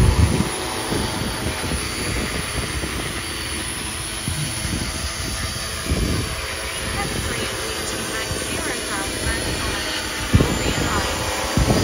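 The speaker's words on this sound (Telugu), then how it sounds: "డ్రోన్ పైకి లేసి చూడండి" A training drone lifts off and climbs, its rotors giving a steady, loud, broadband whirring drone that holds throughout, with a voice talking over it.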